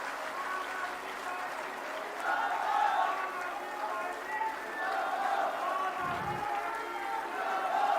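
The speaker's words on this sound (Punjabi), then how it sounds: "ਜ਼ੋਰਦਾਰ ਦੋਨੇ ਹੱਥ ਉੱਪਰ ਚੱਕ ਕੇ ਤਾੜੀਆਂ ਮਾਰ ਕੇ ਸਾਡੀ ਟੀਮ ਦਾ ਹੌਸਲਾ ਵਧਾ ਦਿਓ" A large political rally crowd claps and cheers steadily at moderate distance, a continuous wash of applause with slight swells, while a loudspeaker voice carries over it.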